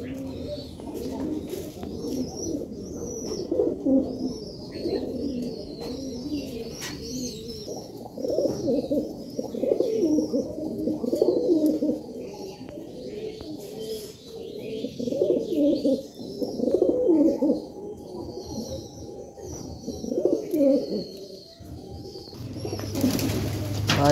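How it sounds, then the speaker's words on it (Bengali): Pigeons coo steadily in low throaty phrases through a loft of domestic birds, with overlapping calls from several birds and some faint higher chirps in the background. "আর এদিকে সবগুলো পায়রাই আছে গাইস"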